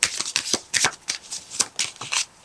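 Tarot cards are shuffled by hand in quick, crisp riffling bursts, close and moderately loud, with no one talking.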